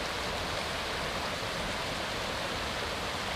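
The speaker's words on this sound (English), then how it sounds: "behind that is, I think, the Sassafras Gully Creek" Sassafras Gully Creek in the Blue Mountains running full after rain, a steady close broadband rush of flowing water that holds even and unbroken throughout, with no voices.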